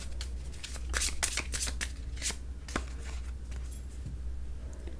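Tarot cards are shuffled and drawn by hand, a soft close riffle of quick papery flicks and snaps over a low steady background hum, with no talking.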